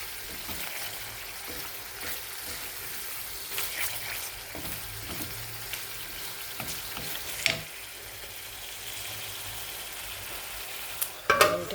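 Rui fish curry with potato, beans and tomato simmering and sizzling in a pan, a steady low frying hiss with occasional stirring clatter and a sharper scrape near the end, no talking.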